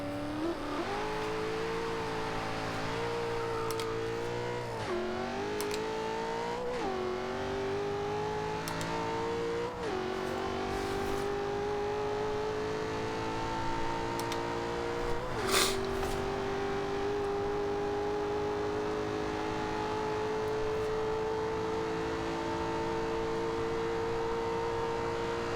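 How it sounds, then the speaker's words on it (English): A 2000 Ford Mustang SVT Cobra R in Forza Horizon 2 accelerates hard through several gear shifts, its engine note climbing and dropping steadily before settling into a sustained high-speed drone, loud and close throughout. "I just love hearing that turbo."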